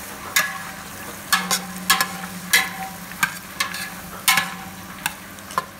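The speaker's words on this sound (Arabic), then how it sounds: "نحط البصل، نقلي البصل تقلى" Onions frying in melted fat in a pot for German-style carrot soup, a steady soft sizzle broken by sharp, repeated scraping clatters of a spoon stirring every half second or so, close and alone.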